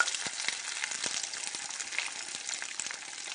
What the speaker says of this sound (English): make sure you pack it into a patty before you lay it in the skillet